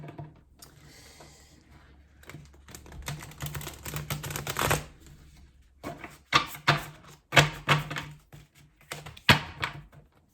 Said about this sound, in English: I'm just going to give them a big girl shuffle